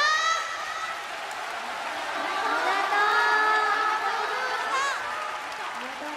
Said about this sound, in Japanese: 昇格した5人に温かい拍手をもう一度お願いします